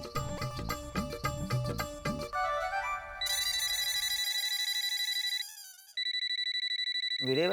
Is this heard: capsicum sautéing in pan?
no